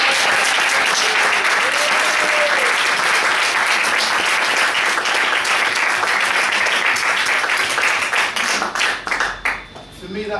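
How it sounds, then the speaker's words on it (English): An audience applauds a speech contest winner with loud, dense clapping that holds steady for about eight seconds, then thins into scattered claps as it dies away. "let's give this person a round of applause."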